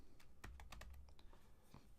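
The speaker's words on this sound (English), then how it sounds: "if you select Shift and Enter on your keyboard" Keys on a computer keyboard clack in a quick irregular run of about ten presses, close and faint, with no voices over them.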